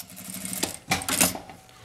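Sewing machine running a short burst of stitches along a fabric strip for a phone charger and earphone holder, a close mechanical whir that rises and stops within about two seconds, no talking.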